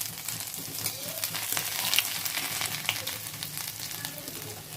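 Chopped ginger sizzling in hot oil with popped mustard seeds: a steady close crackling fry with small spits and pops and a few light stirring scrapes throughout.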